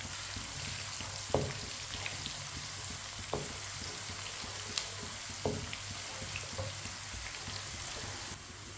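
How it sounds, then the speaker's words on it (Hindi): Chopped onion browning in a pan while a spoon stirs it: a low continuous sizzle broken by a few sharp metallic scrapes and taps spaced a second or two apart, fairly faint, with no talking. "प्याज को इसी तरह चम्मच चलाते हुए ब्राउन करना है"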